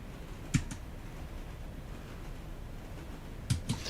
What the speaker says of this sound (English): Sorry, moving my keyboard.